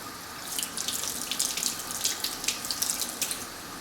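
Tap water runs steadily into a sink as Campari tomatoes are rinsed for pico de gallo, a close, continuous splashing hiss with small bursts where the stream strikes the fruit.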